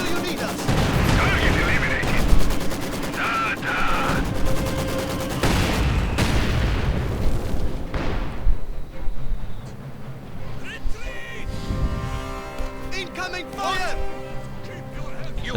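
Bombardment and gunfire in the Company of Heroes 2 strategy game, 2v2 match: repeated loud explosions and bursts of shots, dense in the first half and thinning later, under continuous commentator speech.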